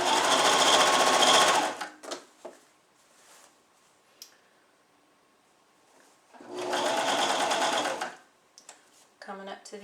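A sewing machine hems a lined swimsuit in two loud, fast-stitching bursts, one at the start and another near the end. Quiet handling noises and small clicks fill the pause between them.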